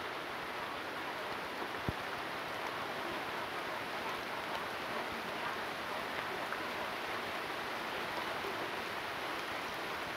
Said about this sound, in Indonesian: Ternyata hujan ini Mas Taufik, ini adalah hujan buatan